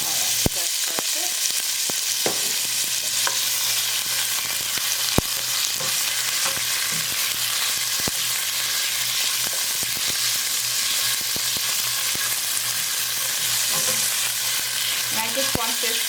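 Pork fries in olive oil in a pot for Boricua-style beans, with a constant close sizzle and sharp clicks and scrapes of stirring scattered throughout.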